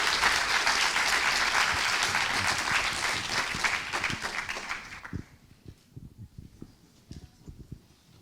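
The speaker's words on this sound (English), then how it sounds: "Please join me in giving Aileen and Marty a round of applause." Dense applause from a packed room at a storytelling symposium, loud and sustained for about five seconds, then quickly thinning to a few scattered, separate claps and taps.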